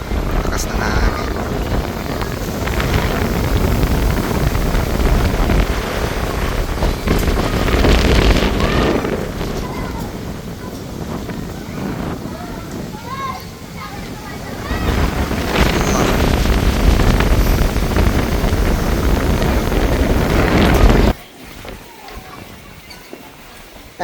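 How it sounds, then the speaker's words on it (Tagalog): Strong wind buffets the microphone outdoors during a motorbike side trip. It makes a loud, continuous roaring rumble that swells and eases, then drops off sharply near the end to a quieter background. "Lakas ng hangin."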